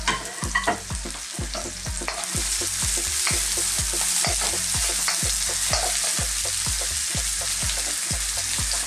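Pork with celery and broccoli stalks stir-frying over high heat: a steady loud sizzle broken by a fast, regular run of clattering spatula strokes against the wok, with no voices.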